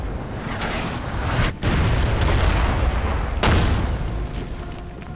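Cannon fire in the Napoleon: Total War video game: a loud, dense barrage of deep booms and rumbling blasts that runs almost without a break, with a couple of brief dips between volleys.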